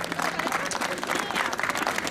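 An audience at a Christmas concert applauds the orchestra, a dense, steady wash of many hands clapping at close range with no voices over it.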